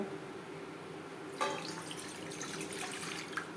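Water is poured into a pot while cooking chicken biryani at home, a brief splashing pour starting partway through over a quiet kitchen background, faint and close.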